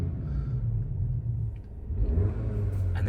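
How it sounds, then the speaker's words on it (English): Skoda Kodiaq vRS SUV engine in sport mode, a deep steady rumble with a rev rising and swelling toward the end, heard close with no talking. "So if I rev it, look,"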